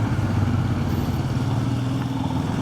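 Honda ADV 160 scooter being ridden, a steady mid-pitched engine hum with road rumble, close and continuous, with no talking.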